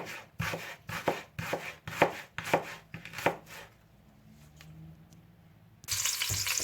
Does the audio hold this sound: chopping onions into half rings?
yes